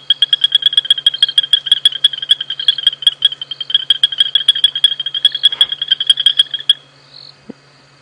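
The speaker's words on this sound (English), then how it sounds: "but you can just hear the frogs" Many frogs calling in rapid, pulsing trills at night on safari, loud and close, with a chorus of insects buzzing beneath before the calling stops.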